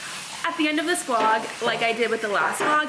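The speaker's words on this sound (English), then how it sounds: "My mom's washing the dishes, so excuse the noise." Dishes being washed in a home kitchen make a steady hiss of running water and faint clatter, continuing beneath a person talking close by for the whole stretch.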